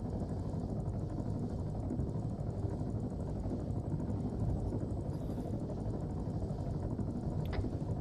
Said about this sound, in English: Gator has found the helipad, setting up LZ now.